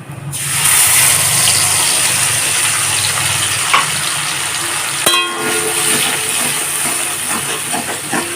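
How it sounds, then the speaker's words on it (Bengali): Spice paste hits hot oil for a Bhola fish curry with a sudden loud hiss that settles into a strong, steady sizzle throughout, broken by a brief clank of a utensil partway through. "এখন ওই তেলেই মশলাটাকে দিয়ে হালকা কষে নেব"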